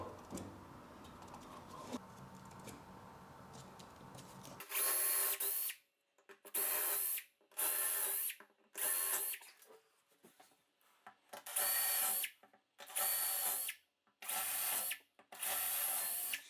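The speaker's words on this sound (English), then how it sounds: "just taking one of your deck screws and just pre-drilling this" A power drill whirs in about eight short bursts separated by brief pauses, loud and close, pre-drilling screw holes for stainless steel deck screws in a steam shower glass enclosure, after a few seconds of quieter handling noise.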